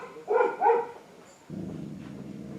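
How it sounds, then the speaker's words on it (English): Pet dogs give two quick, close yelping barks indoors near an open window, followed by a low, murmuring rumble. "Sorry guys, that's my dogs."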